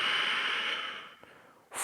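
Deep, slow breathing during a yoga pose in a hip-opening session: a long, soft airy exhale fading out, a brief pause, then the start of a fresh breath, close and quiet.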